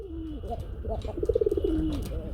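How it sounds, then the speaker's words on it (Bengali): A Golla pigeon cooing, several low throaty coos rising into a rolling, pulsing call near the mic, with light background noise. "গুল্লা কবুতর ভাই না ডাকলে কি আর গুল্লা কবুতর হয়"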